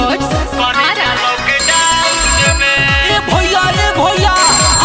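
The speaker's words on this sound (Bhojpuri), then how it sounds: "अरे लो है भौजी के फोन आइल बा" A loud phone ringtone plays a bright, repeating electronic melody with a steady beat, near and continuous for the whole five seconds.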